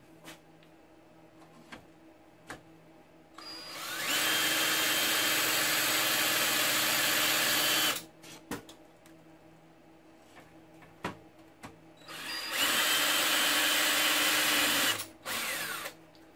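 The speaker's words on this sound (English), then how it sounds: "we'll take our drill, already matched to the holes of the fan, and start putting a little hole in" A power drill whines loudly in two long bursts drilling holes in metal for a fan mount, separated by quiet pauses with a few faint clicks and knocks.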